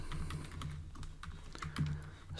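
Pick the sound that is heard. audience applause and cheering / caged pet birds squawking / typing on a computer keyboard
typing on a computer keyboard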